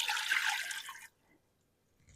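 Water is poured into a pickling brine of vinegar and sugar for sweet peppers, a brief bright splashing pour lasting about a second, close and fairly loud, then cutting off into near silence.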